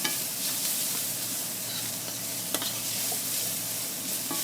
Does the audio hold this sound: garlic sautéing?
yes